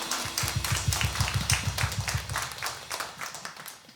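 A worship congregation claps along in a steady rhythm, soft and somewhat distant, with musical accompaniment beneath the beats.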